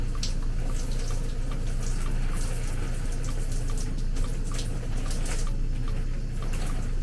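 Steady running water from a shower or tap rinsing through braided natural hair, a constant close hiss with faint splashing and dripping, continuous throughout with no talking.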